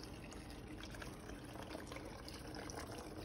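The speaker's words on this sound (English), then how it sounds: "This is a little trick to get your broth to come out faster and not just giving it a little air." Chicken broth glugging and pouring from a carton into a soup pot for mushroom barley soup, a steady liquid splash and trickle running continuously and fairly faint, with no talking.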